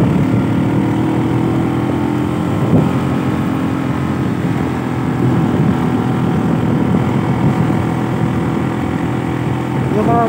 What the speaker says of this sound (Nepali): बाटो चाहिँ बनिरहेछ भने त्यही पनि हेरौँ न कहाँसम्म जान्छ बाइक